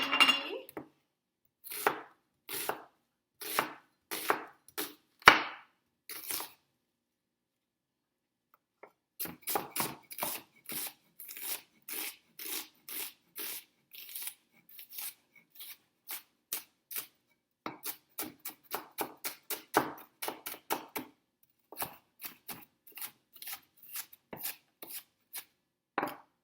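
Knife chopping a large onion on a cutting board, loud close rhythmic chops in quick bursts with a pause partway through, no talking.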